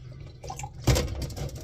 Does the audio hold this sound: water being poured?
yes